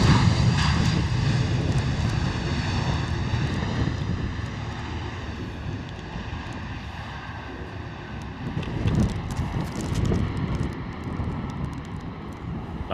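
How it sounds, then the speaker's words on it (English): EasyJet Airbus A320 arriving from Paris and landing at Luton Airport in wet, gusty crosswind conditions: a sustained loud jet roar with whining engine tones, buffeted by wind, gradually easing then surging again near the end. "Lovely arrival though from the EasyJet A320 coming in from Paris"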